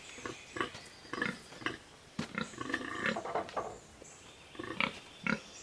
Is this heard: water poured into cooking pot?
no